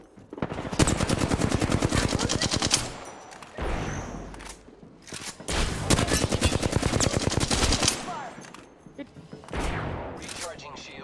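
Rapid automatic gunfire in the Apex Legends video game, long loud bursts of close shots with brief pauses between them, repeated several times.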